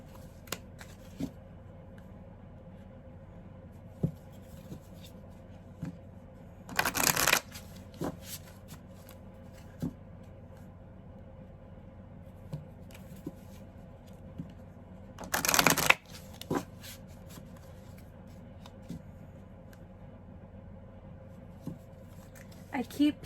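Two brisk bursts of playing cards being shuffled, each riffle lasting under a second and spaced several seconds apart, against a quiet room background with occasional small taps.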